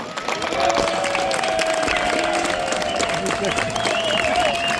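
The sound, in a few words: audience applauding the competing teams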